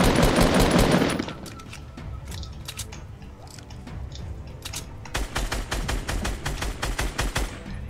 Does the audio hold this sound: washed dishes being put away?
no